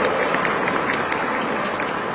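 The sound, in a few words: applause for a child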